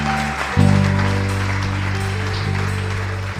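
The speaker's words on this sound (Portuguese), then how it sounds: "Você quer dar um aplauso para o Senhor," Applause from a church congregation honoring the Lord, a steady clapping wash that runs under sustained keyboard or organ chords throughout.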